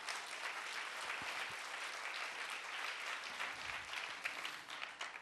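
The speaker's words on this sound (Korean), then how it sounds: "우리 박수로 하나님께 영광 드리겠습니다." Church congregation applauding in praise during a Sunday evening worship service, a steady, dense wash of many hands clapping throughout, fairly loud and continuous with no voices over it.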